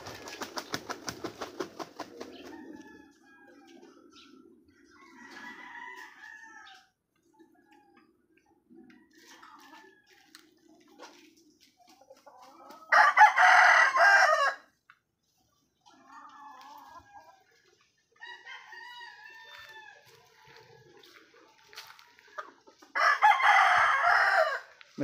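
Roosters crow in two loud, drawn-out bursts amid softer clucking and chatter from a flock of chickens, close by in a quiet yard, with no voices.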